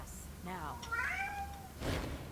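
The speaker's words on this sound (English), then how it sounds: "And that is my cat." A cat in the video game Torment: Tides of Numenera gives a couple of clear, close meows with wavering pitch, followed by a short noisy burst, over quiet game ambience.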